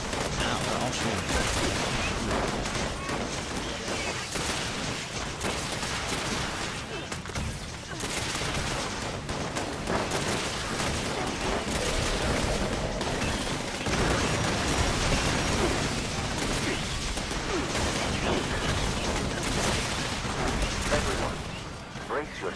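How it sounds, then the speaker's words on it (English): Enemy gunfire rattles almost nonstop in Fallout 76, bursts of shots and heavier booms overlapping in a loud, dense barrage while voices talk over it. "Ow, they're all shooting."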